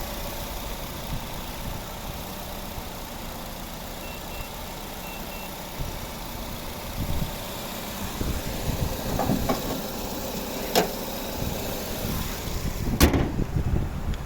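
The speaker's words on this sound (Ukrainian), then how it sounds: "ось робота двигуна. Рівно, тихо." A 2008 Nissan Qashqai+2 with a 2.0 petrol engine idles with a steady low hum, joined later by some louder knocks and clatter nearby, and no one speaks.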